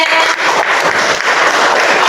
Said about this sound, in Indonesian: Oh iya, tepuk tangan buat Kire.